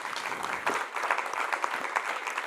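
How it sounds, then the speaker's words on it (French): Sustained crowd applause at a data-challenge awards ceremony for the winning team: dense, even clapping from many hands, moderately loud and continuous throughout. "Alors on va donc pouvoir vous applaudir vous."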